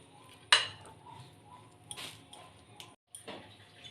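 A metal lid is set down on a cooking pot while chicken pakora mixture rests. It gives a sharp clink, then lighter rattles and scrapes, and a brief silence follows.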